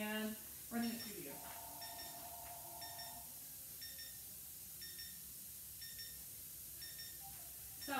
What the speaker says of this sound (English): So let me go catch the phone real quick